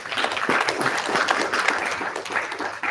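A conference audience at zkDay Paris 2023 applauds after a presentation, dense steady clapping from a full room.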